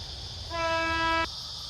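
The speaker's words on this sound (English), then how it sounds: "Oh, look out, here comes the train." A train on a railway line gives a single steady horn blast of under a second, fairly close, over a constant high insect hiss and low outdoor rumble.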